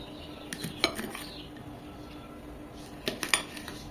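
A knife cuts flat shim beans through the middle, giving a few sharp clicks and taps on a hard surface with short quiet gaps between them, close to the microphone.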